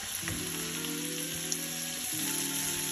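Shrimp frying in mustard oil in a pan, a steady close sizzle with soft crackles and a faint tonal hum underneath, no voices.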